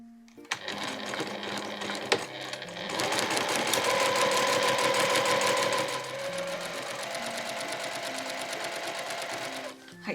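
Domestic sewing machine stitching a seam in fabric for a pair of lounge pants, rapid mechanical whirring and clatter in continuous runs with brief pauses between them, close up, with no talking.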